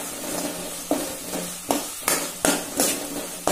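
Rice frying with tomatoes and turmeric in a pan gives a steady sizzle, broken by a series of sharp, evenly spaced taps and scrapes of a spoon against the pan, close and distinct.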